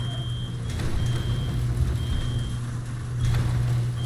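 A repeated electronic beep sounds inside a Rust game base, evenly spaced single tones about once per second over a steady low hum, continuing without pause.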